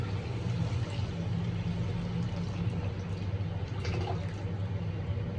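Water is poured into a pot of rice for chana pulao, a steady splashing pour of liquid heard close up, continuous and fairly soft, with no talk over it.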